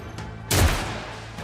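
A character fires a weapon in the Rogue Trader video game: one sudden, loud gunshot burst with a short rumbling decay, standing alone against quiet background noise.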